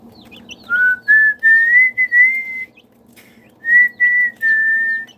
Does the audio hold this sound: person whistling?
yes